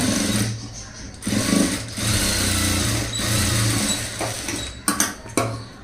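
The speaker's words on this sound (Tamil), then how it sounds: "ரைட் சைடு திருப்பிட்டு அதுக்கு மேலே ஒரு மேல் தையல் போட்டுருங்க" A sewing machine runs in bursts, laying a topstitch along the right side of a front-gap blouse, its steady close mechanical whir broken by short pauses and a few handling clicks.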